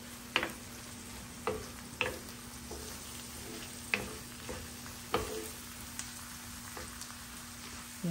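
Onions frying in a covered tagine before meat and green beans go in, a soft steady sizzle with occasional stirring clicks and taps, close and quiet, no talking.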